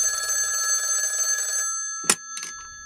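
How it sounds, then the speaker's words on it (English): Telephone ringing for an incoming call on a radio show, a steady electronic ring lasting about a second and a half, then a few brief clicks and a short tone burst as the line is picked up. "Looks like we got a phone call coming in."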